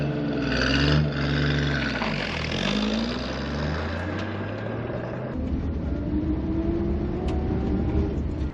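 A 1952 Ford Customline driving, its engine droning loud and close with rising and falling revs as it pulls away, then settling into a steady running rumble with no talk.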